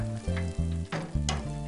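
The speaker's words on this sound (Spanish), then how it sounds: "Bien, que quede bien impregnadito con la sémula y así se va friendo" Food coated in semolina frying in hot oil, a continuous crackling sizzle with a few louder pops, heard close up beneath a steady low hum.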